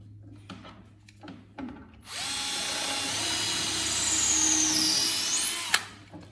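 A power drill bores a hole in a shelf board for a honeycomb shelf assembled only with screws, running steadily at high speed for about four seconds after a few light handling knocks, with a rising whine near the end before stopping.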